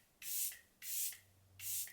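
Three short bursts of fine mist from a Charlotte Tilbury Airbrush Flawless Setting Spray, each about a third of a second, evenly spaced and close, in an otherwise quiet room.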